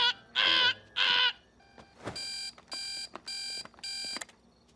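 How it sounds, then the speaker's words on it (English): Alarm clock ringing in an animated setting: two short buzzing bursts, then a sweep and four evenly spaced loud electronic rings, up close with quiet gaps between. "Don't you have a super annoying alarm clock that goes"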